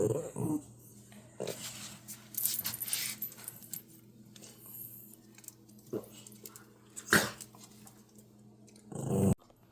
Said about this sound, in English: Oh, I'm being growled at.